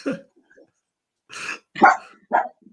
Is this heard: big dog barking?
yes